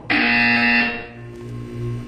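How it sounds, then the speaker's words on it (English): An electronic buzzer in the video game Portal 2 sounds one loud, harsh, sustained tone for about a second, then fades into a softer humming drone. "You will hear a buzzer."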